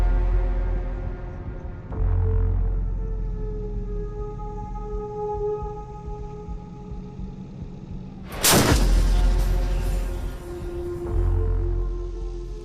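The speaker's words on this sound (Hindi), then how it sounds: "इसका जो गन है ये 40 किलोमीटर दूरी के निशाने पर भी टारगेट लगा सकता है" An Indian Army artillery gun fires one heavy, sharp boom midway, surrounded by a low rumbling hum and droning tones before and after, with no speech.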